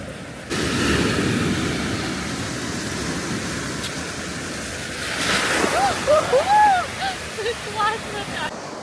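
Ocean waves wash and roll onto the shore nearby at Porto, with wind noise over the sound and a few voices near the end.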